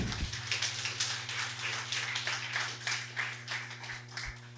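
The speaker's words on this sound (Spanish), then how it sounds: "dale fuerte palmas al Señor" A church congregation claps its hands in a steady, fairly even rhythm over a constant low electrical hum, moderately loud and sustained throughout.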